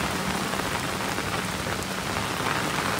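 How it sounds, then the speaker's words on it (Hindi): Heavy rain pours steadily, a dense continuous hiss of drops drumming on surfaces with no pauses and no voices. "बारिश हो रही है बहुत तेज"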